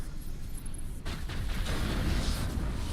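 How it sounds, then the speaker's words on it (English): Gunfire and explosive bursts in the Mass Effect video game, with enemy AI firing at crates; a dense, rumbling barrage with sharper cracks kicks in after a brief lull and sustains at a moderate level. "They're literally just standing there shooting at fucking crates."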